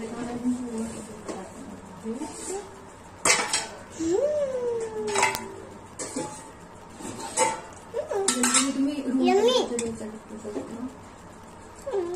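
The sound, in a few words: mixing cake batter with milk in a bowl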